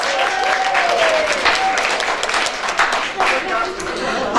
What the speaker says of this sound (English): Please big round of applause for Umayma.